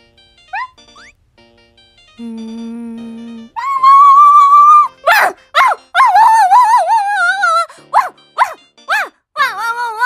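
A person imitates a dog, with short yipping barks and whimpering yelps, to steer a voice-controlled rhythm game, Yasumuna! 8-bu Onpu-chan. Synthetic game tones play in between. The barks come in quick bursts, loud and close.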